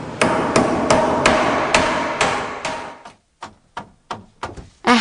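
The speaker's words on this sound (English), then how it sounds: "A hammer is a capital good. It makes it easier to nail things together." A hammer drives nails with sharp, ringing blows: about seven evenly spaced strikes, then a pause and a quicker run of lighter taps, all close and loud with no other sound.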